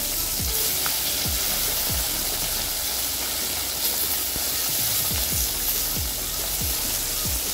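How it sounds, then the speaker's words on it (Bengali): Fish frying in hot oil in a pan for a village-style sour fish curry, a steady loud sizzle with repeated scraping stirs and turns of the spatula, no voices. "মাছগুলো প্রায় ভাজা হয়ে গেছে। এখন আমি উল্টে পাল্টে নেব।"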